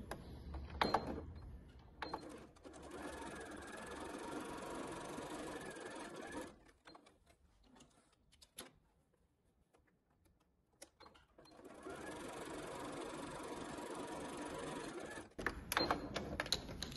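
A sewing machine runs steadily, stitching a seam on a small wallet made of printed tricoline cotton fabric. There are two long continuous bursts separated by a quiet pause, and no one speaks.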